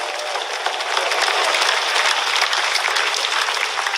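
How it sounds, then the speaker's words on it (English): Congregation applause at a religious gathering: dense, steady clapping from many hands that swells in after about a second and holds loud and even to the end. "Let's clap for Jesus."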